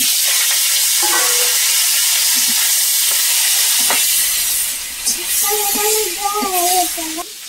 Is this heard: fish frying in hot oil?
yes